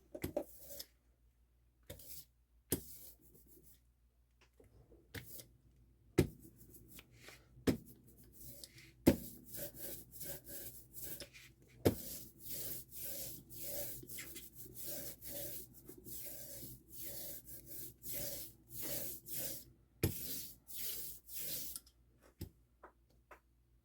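A brayer rolls back and forth over paint in an art journal, making soft, quiet rubbing strokes in an uneven rhythm with occasional small clicks, close by and alone.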